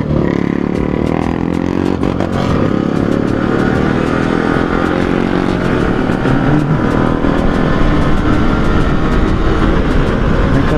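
Motorcycles ridden at a stunt riding gathering in a club at New Raipur, a continuous loud engine roar and rumble with clattering, steady throughout with no talk.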